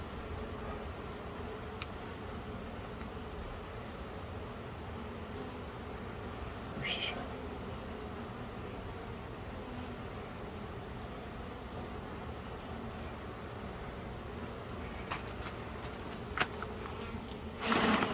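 Honey bees buzz in a dense, continuous drone during a hive inspection of a kitchen hive and resource nuc, steady and close, with faint handling noises throughout.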